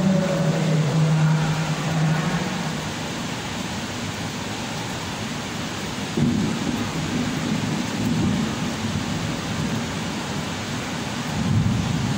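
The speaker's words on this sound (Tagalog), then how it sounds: "Kita nyo guys, grabe ang kidlat, nakakatakot." A heavy downpour roars steadily during a thunderstorm while low rumbles of thunder roll underneath, loud and constant throughout, with no voices.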